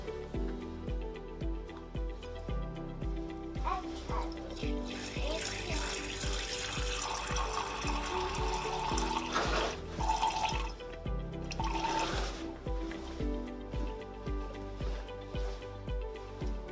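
Water runs and splashes steadily into a container on a scale as it is weighed for a citric acid solution, a continuous close trickle with no talking.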